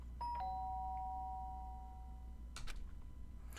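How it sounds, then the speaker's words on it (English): A doorbell in the game Danganronpa: Trigger Happy Havoc gives a single ding-dong chime that rings out and fades, followed by a couple of soft thuds, with no voices over it. "the sound of the doorbell forced its way into my room."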